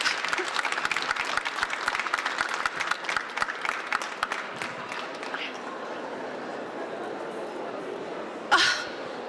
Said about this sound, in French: je voudrais que vous applaudissiez Bénédicte Geoffroy